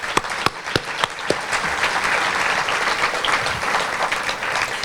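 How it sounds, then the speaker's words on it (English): Audience applause at a Tri-City Regional Chamber of Commerce luncheon, a steady wash of many hands clapping throughout, with a few sharp nearby claps standing out at the start. "Let's give one more round of applause for everyone who came today."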